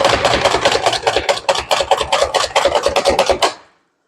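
An OXO Good Grips chopper dices onion quarters, a loud rapid run of about twenty crisp chopping thumps close up that stops abruptly into silence.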